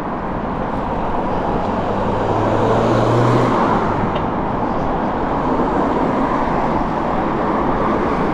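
Cars drive past on a busy London street, a steady, loud roar of road traffic that swells and blends continuously over the whole stretch.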